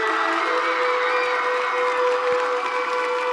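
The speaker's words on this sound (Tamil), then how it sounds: "பலத்த கரகோஷங்களை கொடுத்து விடலாம்." An audience at a stage award event applauds loudly and without a break, a dense, sustained wash of clapping with faint cheers mixed in.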